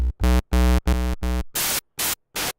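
Noise waveforms from a Roland SP-404MKII sound generator: several short pitched synth tones give way to three bursts of broadband hiss, each a separate loud note with gaps between.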